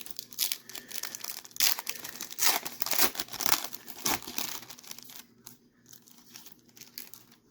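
Crinkling, tearing foil wrapper of a 1990 Score hockey card pack being opened by hand, a close series of crisp rustles and rips that fade into quieter handling near the end.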